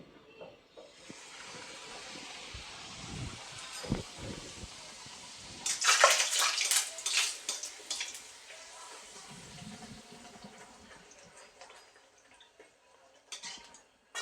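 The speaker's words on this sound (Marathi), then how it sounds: "आता आपण ह्या तेलात सोडू." Puris dropped into hot oil: a soft hiss that swells into loud, bright sizzling and bubbling partway through, then settles back to a lower frying crackle, with no one talking.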